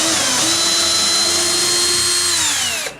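A power drill run in reverse backs a screw out of wood with a loud, continuous motor whine that rises in pitch, holds steady for a couple of seconds, then drops as it winds down.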